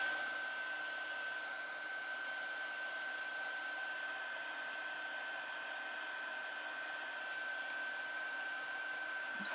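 A heat tool on its highest setting blows hot air onto an embossed paper card, a steady, even whooshing hiss with a faint whine that holds unchanged for the whole stretch, with no talk.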